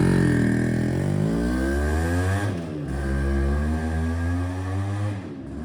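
A Yamaha RX100 motorcycle engine fires up and keeps running, a loud, steady two-stroke drone with rising and falling revs, close by and alone with no talking.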